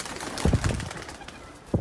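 A Ferozpuri pigeon coos close by in a few low, soft, throaty pulses, with a short pause before a final coo.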